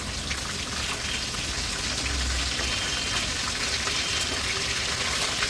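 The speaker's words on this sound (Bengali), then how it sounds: "এদিকে দেখো জল ফুটে গেছে" Water boiling in a pot in a home kitchen, a steady loud bubbling and hissing roar that continues without a break and with no talk.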